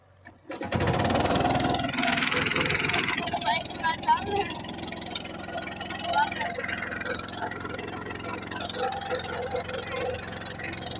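Boat engine starting up and then running steadily on a boat trip near Fort Munro, a loud rough mechanical drone that begins about a second in and persists throughout, mixed with wind and background noise.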